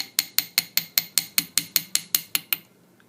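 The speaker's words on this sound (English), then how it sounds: "I like to texturize that with the ball end of the hammer" Ball end of a hammer striking metal petals of plumeria flower earrings to texture them, about thirteen quick, evenly spaced sharp metallic taps, close and clear, stopping near the end.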